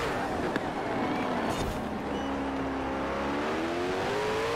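A Koenigsegg Jesko hypercar in the racing video game Forza Horizon 4, its engine droning steadily and rising in pitch as it accelerates, a sustained loud whine with a brief crack near the start and a faint voice at times.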